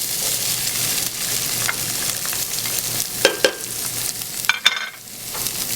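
Onions frying in a pan with browned garlic and cumin seeds give off a steady, close sizzle. A few sharp stirring clinks rise above the hiss, and nobody speaks.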